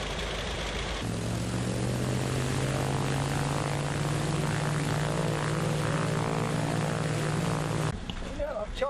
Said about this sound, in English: My plane will fly!